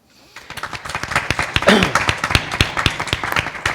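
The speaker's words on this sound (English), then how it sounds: "Let's give Vanisha a wonderful round of applause, please." An audience at an evening spiritual talk gives a round of applause, starting sparse and building into close, loud, irregular clapping with distinct sharp claps and a brief murmur of voices.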